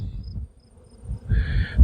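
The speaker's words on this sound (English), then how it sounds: "There's a lot of bees on this draft frame" Honeybees crowd a drawn frame beside a hive, their soft, wavering buzz rising briefly near and fairly loud over low rumbling handling noise.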